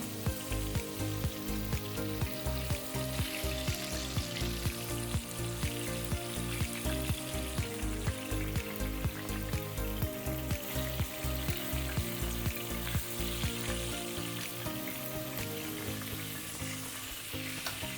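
Fish fries in a pan with a steady, dense sizzle and crackle, pulsing rhythmically throughout at close range, with no voices.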